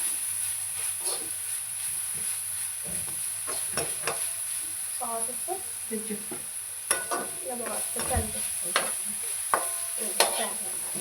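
Chili powder frying in a pan for egg noodles gives a soft, steady sizzle, with intermittent scraping stir strokes and clinks close by over a constant background hum.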